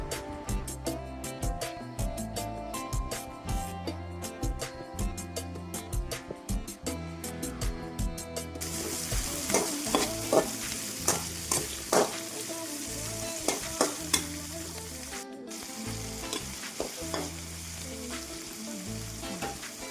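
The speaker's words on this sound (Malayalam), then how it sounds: "പിന്നെ ഇതിലോട്ട് പച്ചമാങ്ങ കൊണ്ടിട്ട് കൊടുത്തിട്ട് അതുപോലെ തന്നെ നന്നായിട്ടൊന്ന് വഴറ്റി കൊടുക്കുക." Green mango and crushed garlic sauté in a hot pan with a continuous sizzle and frequent scraping stir strokes, accompanied by steady rhythmic background music.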